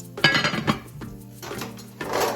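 A lid clatters onto a metal pot of Jamaican escovitch fish on the stove, a few close clinks and knocks of metal on metal ringing out, then a quieter settling rattle.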